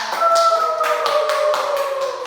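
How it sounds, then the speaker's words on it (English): Classroom of students clapping together in a long, steady burst of rapid claps over a continuous tonal hum. "let's give ourselves a very big clap"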